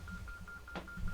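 A phone emits a repeating electronic beep pattern with a short burst partway through, interrupting a recording session near a figure-8 microphone.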